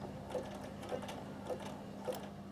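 A Bernina sewing machine stitching a zigzag on heirloom lace work, its motor humming steadily at close range with four regular needle clicks, about one every half second.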